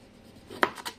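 A kitchen knife slices through a tomato in two or three quick, crisp cuts, the sharpest one loudest and close, with a quiet room behind.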